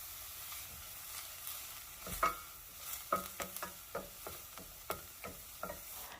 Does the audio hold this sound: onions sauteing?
yes